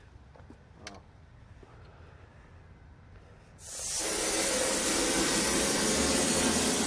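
After a few quiet taps and shuffles, an air sprayer spraying concrete onto a countertop starts with a loud, steady hissing and keeps going, broad and close.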